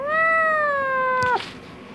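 A cat at a pet clinic in Dhaka gives one long, loud, drawn-out meow close by that ends abruptly, followed by quiet room noise.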